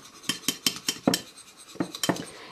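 A spoon clinks and scrapes against a small container while stirring a nail-strengthening oil blend, about ten quick close taps in an uneven rhythm with a brief pause midway.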